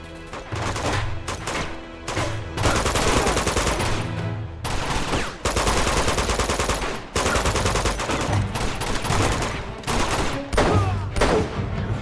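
Heavy, sustained gunfire in the Uncharted 2: Among Thieves game on PS4, long loud volleys of rapid shots broken by a few short pauses, with headshot hits amid the barrage.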